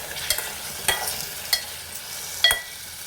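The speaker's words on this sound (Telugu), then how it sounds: "టమాటా అయితే మగ్గించుకుందాం ఇంకా" Tomatoes cook down in a pan for a village-style green chilli and tomato chutney, giving a faint low sizzle broken by a few soft stirring clicks and scrapes at irregular intervals.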